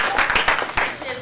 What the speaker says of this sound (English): So a round of applause for Troy.